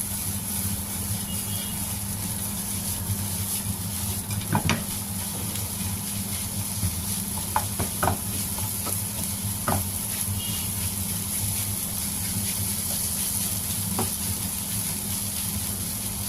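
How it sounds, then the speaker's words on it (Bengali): Bitter gourd stir-fried with fish roe in a pan: a constant hiss of frying runs throughout, punctuated by occasional sharp spatula taps and scrapes against the pan. "এখন মাছের ডিমটার সাথে আমি করলাটাকে একটু ভালো করে মিলিয়ে দিচ্ছি।"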